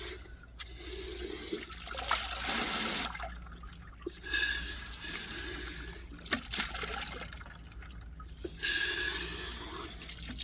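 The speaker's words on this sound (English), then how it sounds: "Rinse them off now and take them inside and check them out." Running water rinses freshly burnished tumbled gemstones, a loud splashing flow that comes in several surges with brief quieter gaps as the stones are shifted under the stream.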